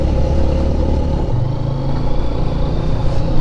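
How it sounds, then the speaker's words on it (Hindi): Motorcycle riding on a dirt road in a valley, with a loose chain adding rattle and clatter over the steady engine rumble. It is loud and close throughout, with no speech. "बाइक की चेन मुझे लगता है बहुत ज़्यादा ढीली हो चुकी है, मुझे आवाज़ अभी दे रही है।"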